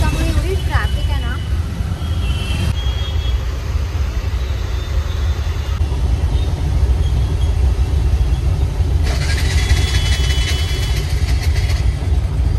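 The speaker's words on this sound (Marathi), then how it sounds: "आणि थोडीशी ट्रॅफिक पण आहे इथे." Road traffic on a rainy day in a busy street, with a continuous low rumble of car engines and steady broad hiss filling the whole stretch, close and fairly loud.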